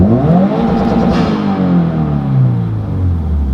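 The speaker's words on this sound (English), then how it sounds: "I'll do some revs inside, and let's see if you can hear it through the camera in here." Subaru WRX engine revving from inside the cabin, a loud continuous drone that climbs and falls in pitch through a couple of rev swells, close and without talk.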